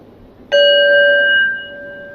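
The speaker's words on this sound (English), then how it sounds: "So when we ring the bell" A single bell struck once, ringing clearly with a bright sustained tone that slowly fades away, alone with no voices.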